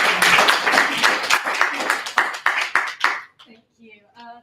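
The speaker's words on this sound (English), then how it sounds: "Give a round of applause." Loud audience clapping at an evening brand-building meetup, dense at first and then thinning into scattered individual claps before dying out, with a few voices near the end.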